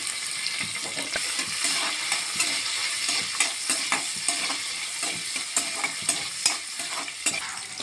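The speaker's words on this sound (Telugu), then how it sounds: "ఇలా కలుపుతూ బాగా ఫ్రై చేసుకోవాలి దానిలో కొంచెం జీడిపప్పు కూడా వేసుకుని బాగా ఫ్రై చేసుకోండి" Cashew nuts fry in oil in a pan while being stirred, a steady bright sizzle with frequent scraping strokes of the spoon throughout, close and continuous with no talking.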